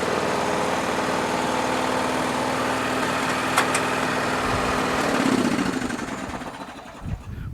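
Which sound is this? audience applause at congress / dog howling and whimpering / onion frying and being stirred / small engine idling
small engine idling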